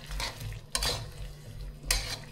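Chicken pieces seasoned with turmeric and salt are stirred in a frying pan, soft scraping and clinking of a utensil against the pan over a faint low sizzle, with a couple of brief louder stirs.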